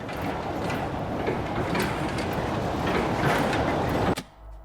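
Steady mechanical rumble of a train running on rails in the Sands horror game, continuous and moderately loud, cutting off abruptly near the end.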